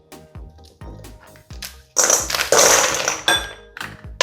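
Ice cubes dropped into a large bowl: a series of hard clinks and knocks, several separate taps early on, then a louder jumbled clatter of many cubes tumbling together, close by.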